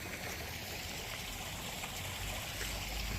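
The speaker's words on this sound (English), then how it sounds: "this water here flowing down was what was coming out right down there, and it was making the gurgling sound" Water flows and gurgles down a stream near a loch, a steady, continuous rushing wash close by with no breaks and no voices.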